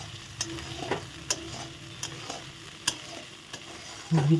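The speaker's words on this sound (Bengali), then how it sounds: "ঘন ঘন বাদাম নেড়ে দিতে হবে" Nuts frying in a pan and being stirred often, a soft steady sizzle broken by sharp spoon clinks and scrapes at irregular intervals, ending in a louder stirring scrape.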